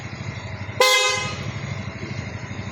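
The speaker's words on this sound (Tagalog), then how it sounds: "busina niya, yan, PIA horn" A single loud PIAA horn on a Honda ADV 350 scooter honks sharply, bright and buzzy, then trails off over a low idling engine rumble.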